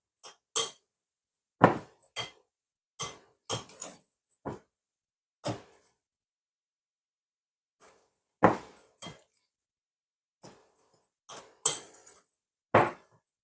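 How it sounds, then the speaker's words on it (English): Spoon scraping and clinking against a bowl while oats are stirred into a chocolate coconut mixture, in irregular separate knocks and scrapes with quiet pauses between, close and fairly soft. "Some oats. We're going to mix this together."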